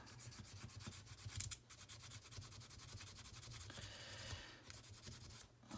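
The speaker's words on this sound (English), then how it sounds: "So we'll just give it a little bit of a sand here, and we'll see what happens." Close, faint rubbing strokes of sandpaper on the scale of a Victorinox Swisschamp Swiss Army knife during a repair, a steady scratchy rhythm with brief pauses.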